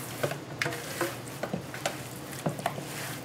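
Seasoning is tossed and mixed into food by hand or utensil, giving soft repeated scraping and light clatter in an irregular rhythm, close and fairly quiet with no talking.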